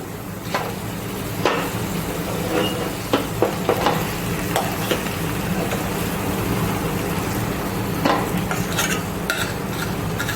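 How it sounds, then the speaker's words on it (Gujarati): Mashed potatoes going into a hot pan and being stirred for a Kathiawadi papad and potato snack: a steady low sizzle runs throughout, broken by sharp scrapes and taps of a spoon on the pan. "હવે આ જે મેશ કરેલા બટાકા છે એ આપણે નાખીશું"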